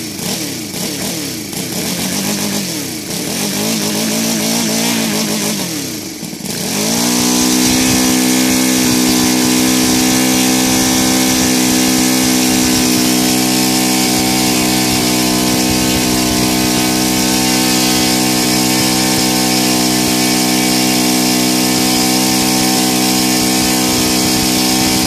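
An engine on a Laser 300 with a CH ignition and gasoline conversion, loud and close, starting with a few rough sounds and then rising to a steady, smooth revving drone that runs without stumbling.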